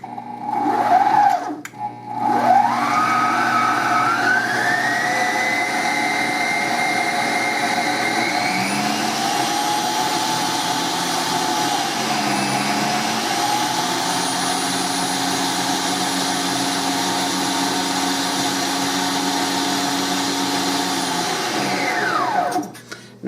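An open top stand mixer with a little spilled batter on it runs on its own, a loud steady motor whine that revs up, shifts pitch midway and winds down at the end.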